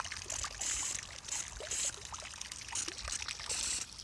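Spring water flowing out of the ground under pressure in open Australian country, a steady close trickling and splashing stream with a bright hiss that rises and falls in short surges.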